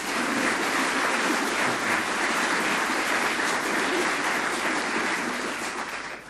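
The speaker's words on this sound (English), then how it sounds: "An absolutely thunderous burst of applause" Thunderous studio audience applause for a guest on a 1970s British television panel game, dense and sustained clapping at full strength throughout, easing slightly toward the end.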